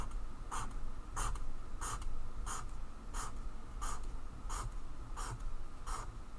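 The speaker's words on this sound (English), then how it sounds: "Now in each of your shapes, we're going to draw lines or a very simple repeated motif." A pen draws lines and simple repeated motifs inside shapes on paper, giving a steady series of about ten evenly spaced scratchy strokes over a continuous low background hum, close and moderately loud.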